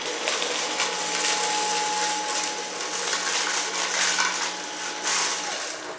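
Cecotec Rockstar 2500 stick vacuum cleaner running steadily, a continuous whirring motor hum with a faint tonal whine and airy hiss, nearby and unbroken, with slight changes as it is pushed over the floor.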